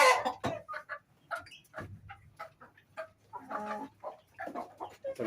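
Backyard pet chickens cluck in short, uneven bursts close by, with brief quiet gaps between the calls and no talking.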